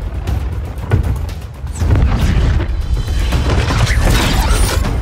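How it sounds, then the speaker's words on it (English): Heavy blasts from an arm cannon in the Injustice 2 fighting game, booming and clanking mechanically, with a loud sustained roar of impacts and debris that swells after the first couple of seconds. "Sweet arm cannon!"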